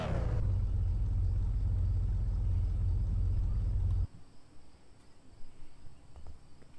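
A car driving in the video game Car For Sale, a steady loud engine rumble with road noise that cuts off abruptly partway through, leaving quieter ambient sounds.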